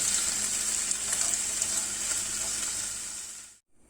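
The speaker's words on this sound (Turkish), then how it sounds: "Tavamıza tereyağını attık, tereyağının kızmasını bekliyoruz" Butter melting and sizzling in a hot pan, ready for chanterelle-type mushrooms with garlic; a steady, bright crackling hiss fills the frame up close, then cuts out abruptly near the end.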